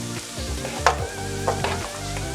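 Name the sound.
onions frying in a pan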